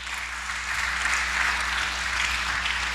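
A congregation at a church service claps steadily and continuously, a dense wash of applause filling the room without any voices.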